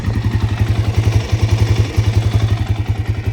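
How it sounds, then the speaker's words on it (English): A small motorcycle engine idles close up with a fast, steady thumping beat that stumbles briefly now and then, sounding slightly uneven. "Engine sounds pretty quiet, you know, there's no ticking."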